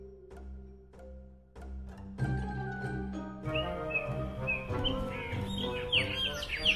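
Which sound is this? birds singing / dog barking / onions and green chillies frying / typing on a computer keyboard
birds singing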